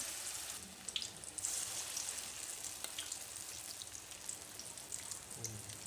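Small balls of snack batter frying in hot oil on medium heat, a steady soft sizzle and crackle with faint popping throughout, close and continuous with no voices.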